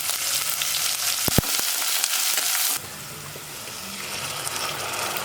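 Onions frying in hot oil with cumin, cinnamon, cloves and cardamom, a loud bright sizzle with a couple of sharp clicks, then a sudden drop to a quieter, steady crackle.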